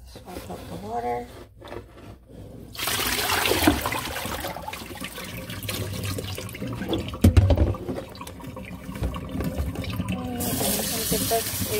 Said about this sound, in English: Swap out the water.